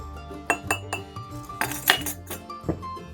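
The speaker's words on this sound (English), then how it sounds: "Get you a good tight fitting lid and shake it, shake it, shake." Spice blend shaken in a lidded jar, a rapid series of clinks and rattles with a few sharper hits, up close and alone.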